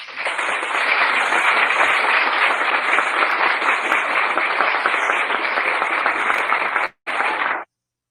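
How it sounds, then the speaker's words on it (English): A large audience applauds after a speech with sustained, dense, loud clapping that runs evenly for about seven seconds, briefly cuts out, then resumes for a moment before stopping. "Thank you very kindly for your heartwarming applause"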